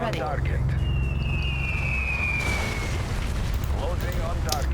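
An enemy base is attacked and blows up in the Yuri's Revenge strategy game, with rumbling explosions and bursts over a constant loud background din.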